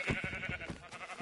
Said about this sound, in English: Where's the sheep?